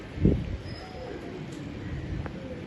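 Pigeons coo softly amid outdoor ambience during a pigeon-keeping session, with a brief thump or flutter near the start and a faint bird call later.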